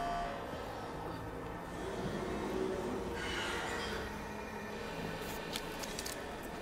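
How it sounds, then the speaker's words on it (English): A train in Cyberpunk 2077 Phantom Liberty rumbles steadily as a continuous, fairly loud rolling drone with brief metallic hissing bursts near the end. "Oh, this is the train, my bad, sorry."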